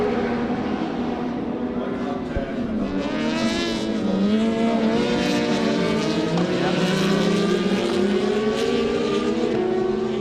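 Rallycross race cars of the British Rallycross Championship roar past at Mondello Park, with several engines droning and rising in pitch continuously and loudly under an excited commentator's voice.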